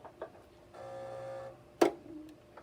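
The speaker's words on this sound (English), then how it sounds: "I'm going to go ahead and sew that." Sewing machine stitching fabric, a short steady mechanical whir of under a second with a sharp click afterward and faint ticks around it.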